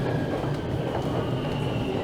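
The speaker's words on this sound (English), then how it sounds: "not going to get on this train." Steady rumble of a PATH train arriving at a station platform in Toronto's South Core, with a continuous low roar and faint squeal of wheels, no voices.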